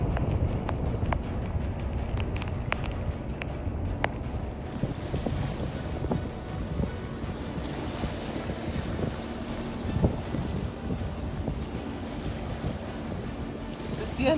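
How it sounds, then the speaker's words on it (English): Sailboat on a lake in stormy conditions: constant heavy wind buffeting the microphone over the wash and slap of waves against the hull, steady and loud throughout. "The waves seem to be getting a little bit bigger as we get closer and further down the lake."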